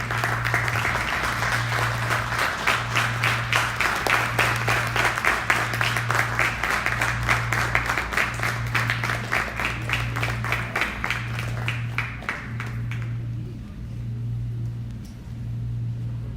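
Sustained applause from a concert audience welcoming the accompanying artists at a Chinmaya Mission evening concert, steady and lively for about thirteen seconds before stopping, over a constant low electrical hum.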